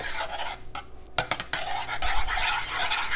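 Spoon scraping and stirring samosa patty mix in boiling water in a pot, a few brisk clinks and rasping sweeps against the metal, close and alone.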